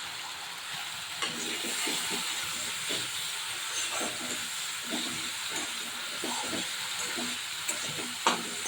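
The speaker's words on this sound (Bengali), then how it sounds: "সর্ষেটা একটু ভাজা ভাজা হয়ে আসলে তারপর দিয়ে দেবো পোস্ত বাটা" Mustard paste frying in oil for a rui and vola fish curry with poppy-seed paste, a loud continuous hiss and sizzle close up, with intermittent stirring scrapes and small pops.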